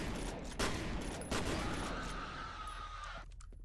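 Shotgun fire in the video game F.E.A.R., with two loud, sharp blasts standing out over a dense, continuous wash of gunfire and battle noise, no voices.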